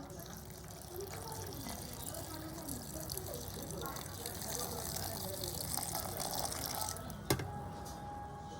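Milk is poured into a bowl of milkshake ingredients, including sunflower seeds, dates and honey, with a steady, low liquid pour running for several seconds under a speaking voice.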